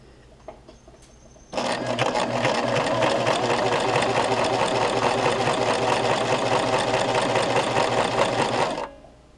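Sewing machine piecing patchwork squares for placemats: after a quiet moment with a small click, a loud, steady motor whir with rapid needle chatter starts and runs for about seven seconds before cutting off.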